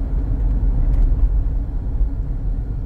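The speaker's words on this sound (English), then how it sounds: "I hear a little road noise when I got up to 55." Road noise inside a 2011 Grand Laredo cruising at 55: a loud, steady low rumble and whir filling the cabin, continuous with no voices.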